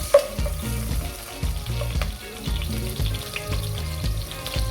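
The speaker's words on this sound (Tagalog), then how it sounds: "and then garlic, so let's mix" Garlic frying and being stirred in a pan while cooking chicken tinola, with a steady sizzle broken by repeated scraping, clattering stirs that sound close and fairly loud, and no one talks.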